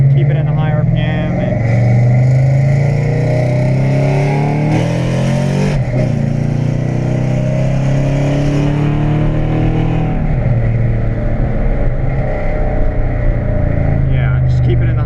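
A cammed Chevrolet Silverado V8, with a camshaft upgrade, held at high RPM, producing a loud, continuous, rough engine roar that swells and dips slightly while someone talks over it.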